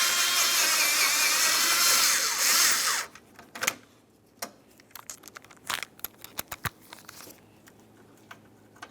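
A 10mm bolt holding the AC condenser on a 2000-2006 Chevrolet Tahoe is driven out with a power tool in one steady, loud whir of about three seconds, followed by scattered light clicks and clinks of handling.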